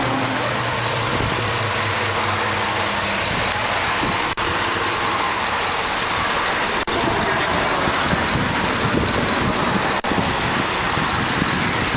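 A 2008 Chevrolet Tahoe LTZ with a 5.3 liter Vortec V8 idles steadily under an open hood, a loud, even engine rumble close by with no voices.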